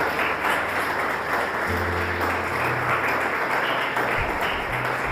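Church congregation applauding loudly during a Portuguese-language sermon, a steady wash of clapping filling the whole stretch with some low hum beneath.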